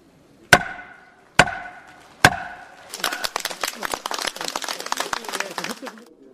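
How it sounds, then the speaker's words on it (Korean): Three sharp, resonant wooden gavel strikes ring out evenly spaced in the National Assembly chamber as a law passes, followed by a burst of applause from the gallery. "드디어 의사봉 소리가 울려 퍼집니다"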